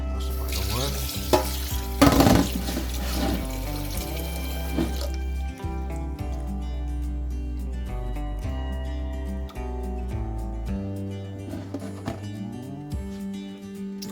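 Water sloshes and swishes as rice is stirred and rinsed by hand, with steady music playing underneath throughout.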